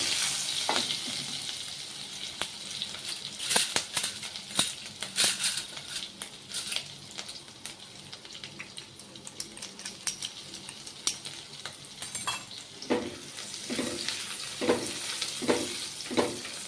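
Curry leaves and green chillies frying in hot oil while a breakfast dish is cooked, a crackling sizzle with spoon stirring and metal pan clinks in bursts throughout, close and moderately quiet.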